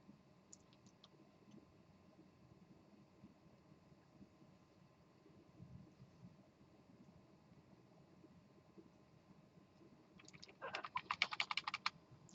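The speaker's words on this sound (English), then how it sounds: "It's going to be a lot of typing" Rapid keystrokes on a computer keyboard while code is typed, a quiet low room hum for most of the span, then a dense burst of clacking keys near the end.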